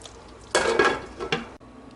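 Kofta curry served out of a pot, with a couple of close, loud bursts of metal utensils scraping and clinking against cookware before it falls quiet.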